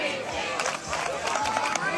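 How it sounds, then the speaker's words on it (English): Green team spectators cheering outdoors at a fire rope burn contest, a steady crowd of shouts and chatter that stays loud throughout. "Green team cheering these guys behind."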